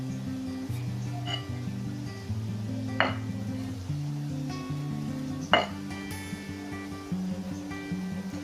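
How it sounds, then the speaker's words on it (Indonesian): Minced meat and spices stirred in a pan for an Acehnese meugang dish, with a steady low sizzle under a few sharp clinks of the utensil against the pan. "lalu kita aduk hingga bumbunya merata"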